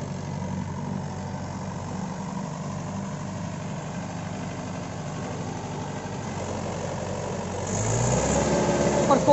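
Mahindra 575 XP Plus tractor engine working under load while pulling a 7-foot rotavator through ploughed field soil, a steady continuous drone that swells louder near the end.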